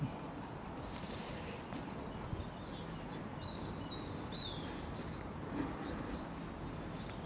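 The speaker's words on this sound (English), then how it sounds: "we start hearing the birds sing now" Faint birdsong chirps far off over a steady outdoor hiss in spring at Basingwerk Abbey ruins, Greenfield, with a few scattered high calls drifting through the background.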